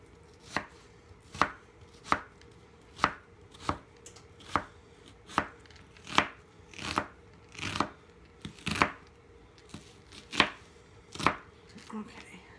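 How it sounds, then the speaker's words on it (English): Onions being sliced thinly with a knife on a cutting board for French onion chicken, about fourteen crisp evenly spaced chops in a steady rhythm, close and distinct, with no talking. "And again, I'm cutting these rather thinly."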